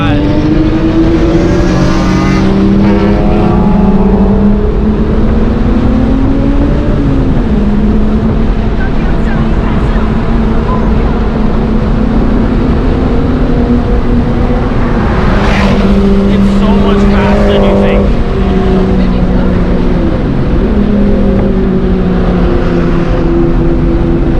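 Loud cars roar past on the Nurburgring circuit, engine tones rising and falling through several passes, heard over the steady drone of an MK3 Jetta VR6 interior at speed.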